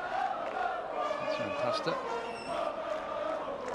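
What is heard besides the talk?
French crowd cheering at Davis Cup tennis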